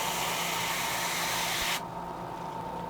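A steady, loud hiss of paint spraying onto a fishing lure that cuts off abruptly near the end, leaving a quieter background hum.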